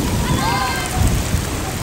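Steady winter rain in Makkah hisses and patters close by, a continuous wash of falling water with a few low rumbles.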